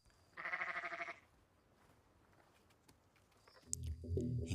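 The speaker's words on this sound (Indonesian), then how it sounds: "seekor domba yang merupakan induk Ada selalu mendatangi rumah mereka dan mengembik di luar jendela kamar Ada" A sheep bleats once outside a window in a horror film, a close, wavering cry lasting under a second, followed by quiet and then a rising low rumble with scattered clicks.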